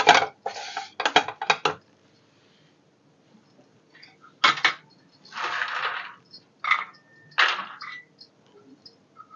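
A spoon stirs roasted dry fruits and coriander powder in a pan with the heat off, giving short bursts of scraping and clinking separated by quiet pauses. The sound is close but soft.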